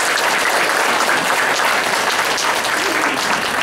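An audience at a Taiwanese-language joint church service applauds, producing dense, steady clapping close by that fills the whole stretch at constant loudness with no other sound.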